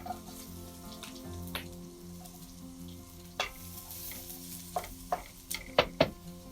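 Onion sizzles and fries in hot oil for a chicken stir fry, a soft steady crackle with a few sharper pops and stirring clicks toward the end, with no talking.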